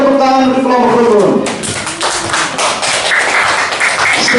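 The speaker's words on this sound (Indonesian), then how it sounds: "Beri aplaus tepuk tangan untuk kelompok rukun" Classroom students clapping for a group, a short burst of scattered hand claps that starts after a voice and fades into loose taps.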